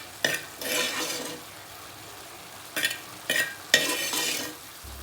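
Snake gourd and jackfruit seed curry stirred in a pan, with several scraping, sizzling strokes of a spoon against the metal coming in short separate bursts.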